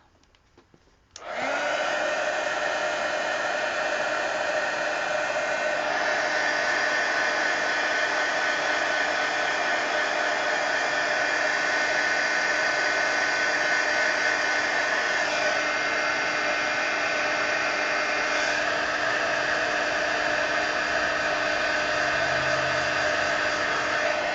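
A hair dryer blows steadily at close range to dry a piece of mixed media artwork, one continuous loud whoosh that switches on after a second and runs unbroken for more than twenty seconds with no talking.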